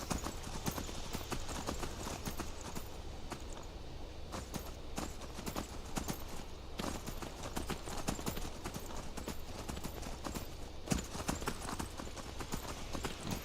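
Steady clip-clop of horse hooves at a walking pace in the video game Skyrim, continuous and fairly close, with a rhythmic repeating pattern and faint ambient background.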